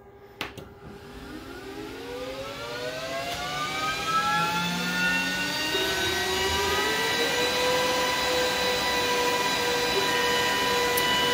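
A laser cutter's exhaust fan spinning up, a whining, airy drone with rising tonal harmonics that builds over several seconds and then settles into a steady, fairly loud rush, heard alone.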